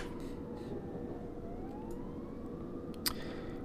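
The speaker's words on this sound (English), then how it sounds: "Can't be London without having some sirens." A wailing siren in London traffic in the video game Train Simulator 2016 sweeps up and down in pitch over a steady Class 378 train hum, with a brief click near the end.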